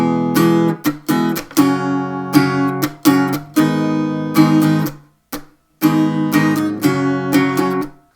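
A guitar strums chords in a lively, syncopated rhythm, bright strokes with short choked pauses between groups, played up close with no talking.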